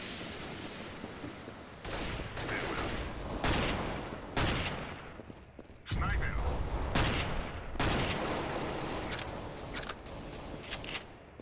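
Shotgun blasts ring out in the video game Counter-Strike: Global Offensive, several loud, sharp bursts spaced unevenly over a continuous bed of in-game noise, with a player talking at times.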